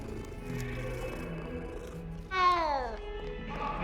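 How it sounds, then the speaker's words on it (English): A cat in the game Hogwarts Legacy lets out one clear, drawn-out meow after a stretch of quieter background music, close and loud. "There's a cat! You can pet a cat!"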